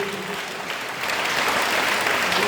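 Applause from a church congregation at a gathering, a dense wash of clapping hands that swells louder partway through and keeps going steadily to the end.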